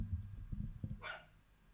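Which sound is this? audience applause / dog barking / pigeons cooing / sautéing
dog barking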